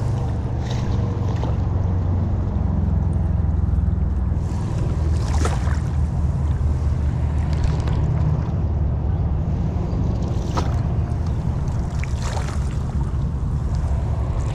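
Steady low rumble of a bangka (Filipino boat) moving across water, with constant engine-like drone and occasional splashes and wind over it; no talking.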